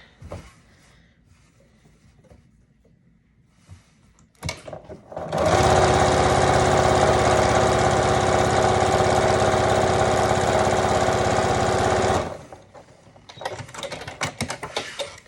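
A sewing machine runs a continuous straight stitch on the pocket of a kakivik, a Yup'ik garment, with a steady loud whir lasting about seven seconds. Quieter handling noises come before and after it.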